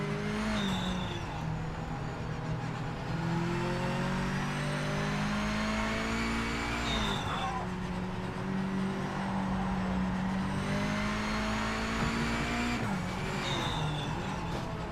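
V8 race car engine in a PC racing game revs steadily, rising in pitch through each gear and dropping at every shift, with clear shifts near seven and thirteen seconds; no one talks.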